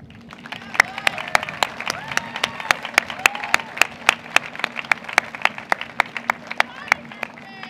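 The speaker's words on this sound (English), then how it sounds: "Everyone else, please give all of them a round of applause." Audience applause fills a high school graduation ceremony, steady and dense, with sharp, evenly spaced percussive hits keeping a regular beat throughout.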